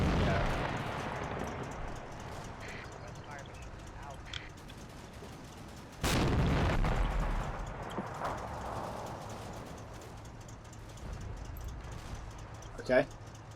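Tank gun shots in the World War II game Combat Mission Final Blitzkrieg, two heavy booms several seconds apart with a sharp loud blast near the middle and a smaller one near the end, over quiet background rumble and light talk.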